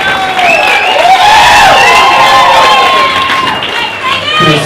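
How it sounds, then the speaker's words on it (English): A large wedding crowd cheers and whoops loudly, voices rising and overlapping in sustained excitement, with applause blended into the roar. "We have a big round of applause for our father of the bride, Mr. Craig George."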